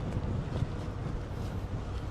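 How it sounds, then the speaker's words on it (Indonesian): Strong wind at sea during the docking of a barge in heavy rain, a steady low roar of gusts and wave wash buffeting the microphone throughout, with no talking. "Anginnya kuat. Ombaknya juga kuat ini guys."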